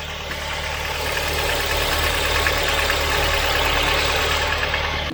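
A Volvo 940 Turbo engine idles steadily at close range, a continuous low rumble with a faint knocking texture, running alone without any talk.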